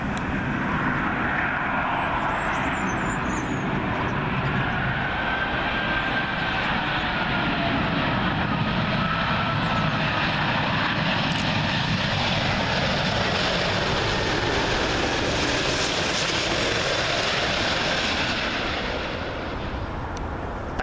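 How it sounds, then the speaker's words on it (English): A British Airways Airbus A380 arriving from Dallas on approach to Heathrow runway 27L, a loud, steady roar of jet engines that swells and holds for about twenty seconds before easing slightly at the end. "British Airways A380 in from Dallas, Texas."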